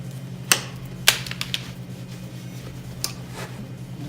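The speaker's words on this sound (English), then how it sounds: "and cut the wire." Plain electrical wire being cut during an outlet installation: a few sharp, quiet snips and clicks spaced irregularly over a low steady background hum.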